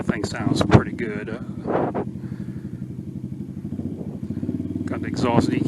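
Venom Ghost 250 dirt bike with decatted exhaust: a rumbling single-cylinder engine note runs steadily underneath, with a rider talking over it and wind noise at times.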